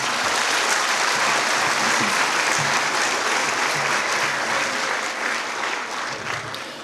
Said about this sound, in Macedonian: ќе ве замолам за еден аплауз за нив